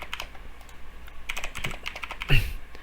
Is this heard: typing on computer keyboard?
yes